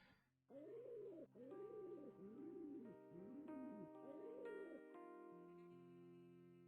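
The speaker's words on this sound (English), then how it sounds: "the pigeon makes noise" A pigeon coos in Cube Escape: Harvey's Box, five rhythmic rolling coos in a row, close and clear, followed by a quiet sustained musical drone.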